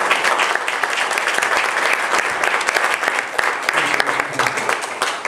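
A church congregation claps loudly during a sermon, a dense, sustained roar of hands heard up close. Voices rise faintly beneath the clapping.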